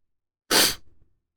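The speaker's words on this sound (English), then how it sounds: "I'm about to sneeze." A single sharp, explosive sneeze burst, close and loud, followed by a brief breathy tail fading into silence.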